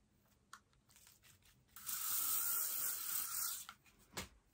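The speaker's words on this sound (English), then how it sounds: "So I'm just going to finish up by popping a bit of spray on." Hairspray hissing from an aerosol can onto a human hair topper, one steady spray burst lasting under two seconds, close and soft, framed by quieter rustling.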